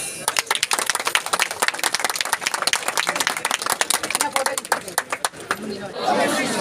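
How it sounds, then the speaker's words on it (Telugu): People clapping at a cake-cutting celebration at an ancient Shiva temple, a dense burst of applause from a nearby crowd with chatter mixed in, thinning out toward the end. "క్లాప్స్"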